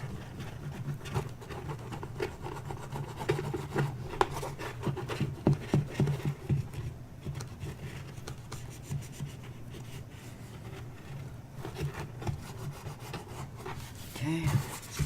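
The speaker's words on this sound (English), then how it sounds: "burnish this down" Paper is burnished down by hand, a soft, scratchy rubbing that comes in uneven close strokes and small bursts over about fifteen seconds, fairly quiet with no talk.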